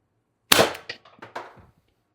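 TR50 Torpedo CO2 air gun with a tuned barrel on a 36g CO2 cartridge firing a 12.7mm ball bearing: one sharp, loud pop followed by a few short rattling echoes, otherwise quiet.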